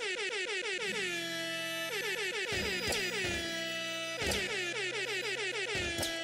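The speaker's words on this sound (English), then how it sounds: "that awesome air horn that you can do at the beginning of every single level when you pop into it" Repeated blasts of an air horn in the video game Nuclear Throne, several loud, brassy honks following one another in quick succession with no talking.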